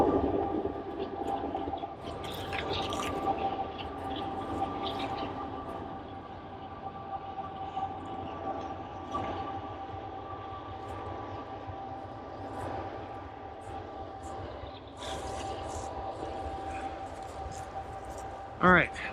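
Westbound freight train on the Canadian National Graham Subdivision rolling past at steady volume, a continuous rumble with wheel-and-rail noise and faint squeal tones, talk from nearby people over it.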